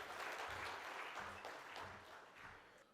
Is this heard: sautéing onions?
no